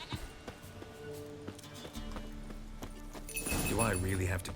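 A goat bleats in the Witcher 3: Wild Hunt game amid hoof clip-clops and game ambience, with a louder wavering bleat near the end and talk over the scene.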